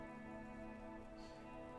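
Rain falls in the video game Disco Elysium as a soft, even hiss that stays steady throughout. It is faint and distant, with a low musical drone underneath and no talking.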